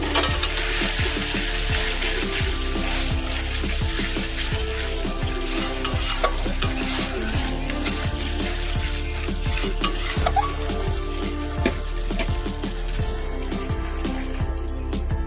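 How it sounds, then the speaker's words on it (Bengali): Spiced masala with tomato sauce, cooking down for a Dhaka-style cauliflower and potato curry, sizzles steadily in oil in a pan, with a spoon scraping and stirring in a repeated rhythm, close and loud. "আমি এর মধ্যে দেবো টমেটো সস আমি এটাকেও ভালো করে কষিয়ে"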